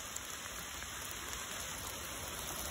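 Rain pours down steadily at a campsite, a dense, even hiss of drops with no pauses, filling the scene without voices.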